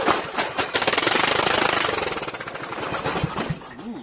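A lawn tractor's small engine, a Murray 14.5 on choke, sputters and catches, then runs loud and rough with a rapid chugging rhythm that eases slightly toward the end.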